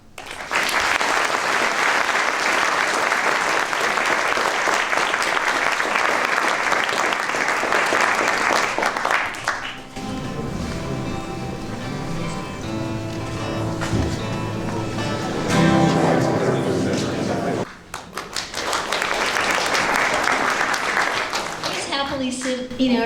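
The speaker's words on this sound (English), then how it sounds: "And then he stopped and you applauded" An audience applauds a poetry recitation with loud, dense clapping that fills the room, pauses briefly while a voice speaks, then swells into full applause again.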